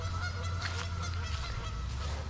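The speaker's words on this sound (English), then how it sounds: "A very outspoken goose." A goose honks repeatedly at a lakeside KOA campground on Lake Erie in Ohio, loud and fairly close, with several harsh honks in a row over faint background noise and no speech.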